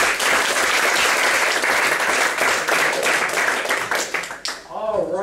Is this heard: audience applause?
yes